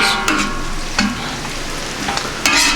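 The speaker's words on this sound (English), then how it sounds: "so I'll go ahead and combine the eggs now with my potatoes" Eggs and potatoes are stirred and scraped on a Camp Chef FTG600 flat top grill, with a constant loud sizzle and a few sharp spatula clacks on the metal griddle.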